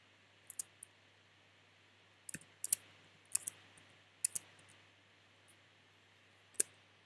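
Computer mouse clicks and keyboard taps while setting page margins in web-building software: a scattered run of quiet, sharp clicks in small clusters against a faint steady hum, with no talk.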